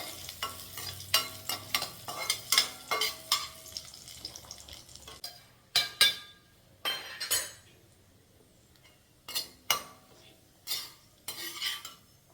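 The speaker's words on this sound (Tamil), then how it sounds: "கிஸ்மிஸ் பழத்தை திராட்சை பழத்தை இப்போ வறுத்தோம்" Raisins are fried in a pan for sweet pongal, with repeated sharp metallic scrapes and clinks of a spoon stirring against the vessel over a faint sizzle, in irregular bursts with short quiet gaps.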